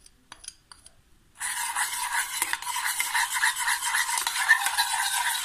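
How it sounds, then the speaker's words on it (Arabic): Melted candle wax mixed with colour dye is stirred in a glass, a steady bright scraping and clinking swirl that starts after a second of faint taps and runs on continuously and close. "هانتوما نخلطوه مزيان."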